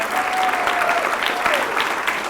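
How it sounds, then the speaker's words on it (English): Sustained applause from a comedy show audience, a steady dense clatter of clapping hands that fills the room throughout. "So for a last round of applause, Tom McCarter, Gene McCullough,"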